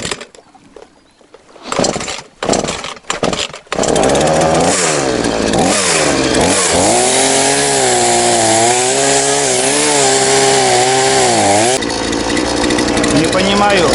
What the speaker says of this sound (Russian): Снизу вот так надо пилить.